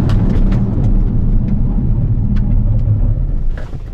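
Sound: sports car braking hard

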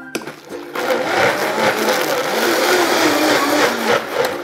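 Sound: blender blending boiled mugwort with water

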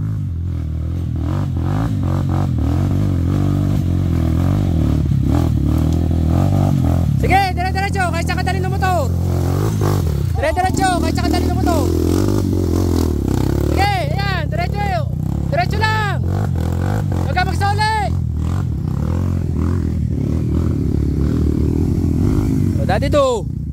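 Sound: motorcycle engine revving

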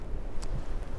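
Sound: strong wind on the Baltic Sea coast

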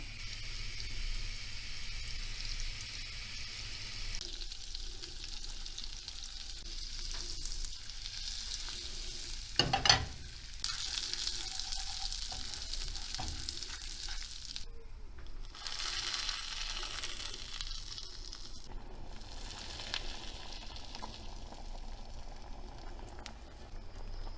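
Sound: butter sizzling in a heated frying pan

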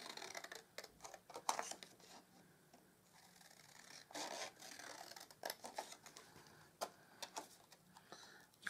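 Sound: cutting out paper for a card

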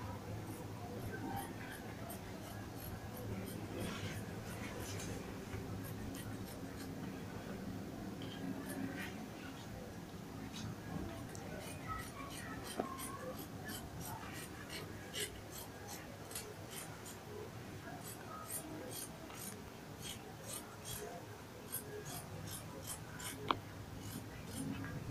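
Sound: scissors cutting fabric for a dress

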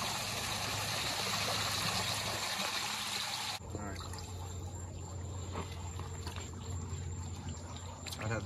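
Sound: water being taken out of a pond

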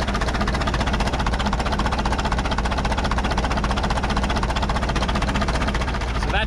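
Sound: 1950s Caterpillar TraxCavator diesel engine running

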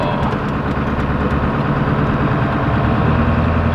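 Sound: 1997 Ford F350 Power Stroke diesel engine running

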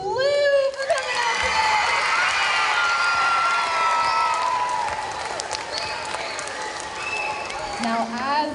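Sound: school crowd applause and cheering

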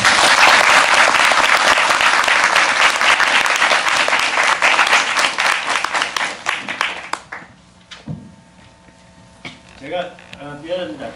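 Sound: audience applause welcoming guest

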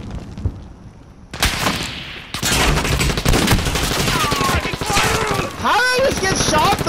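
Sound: gunfire in the video game Modern Warfare

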